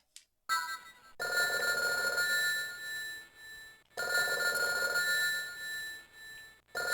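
Telephone ringing in the Silent Hill Play Novel game on Game Boy Advance, two long electronic ring bursts separated by a brief gap, clear and alone.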